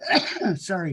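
A single sharp sneeze from a person during a recorded interview, followed immediately by a short spoken apology.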